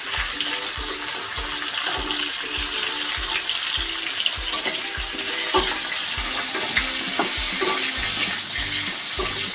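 Bitter gourd stir-fries in a pan with turmeric and salt for a tamarind-flavoured dish, making a dense, continuous close sizzle with a regular series of soft scraping strokes running throughout.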